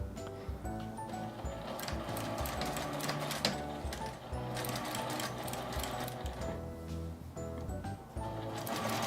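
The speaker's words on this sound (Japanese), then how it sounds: "返し口を開けて縫いました。" A sewing machine stitches fabric with the return opening left open, a steady close rapid mechanical whir and clatter running without pause for about nine seconds, with no talking.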